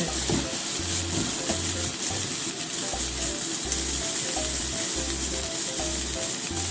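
Eggplant stir-fries in a pan with a steady, loud sizzle, while a spatula scrapes and stirs in a repeating rhythm.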